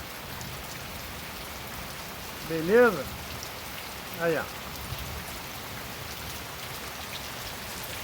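Steady rain falls on a rural smallholding in Brazil, a dense even hiss running throughout, with someone speaking briefly twice over it.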